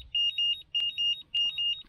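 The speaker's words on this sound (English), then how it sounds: "very shortly I imagine it will give me a beep" GT Power C6D Pro battery charger sounding its full-charge alarm: a clear, close electronic beep pattern repeating in quick double-pulse groups, alone with no talk.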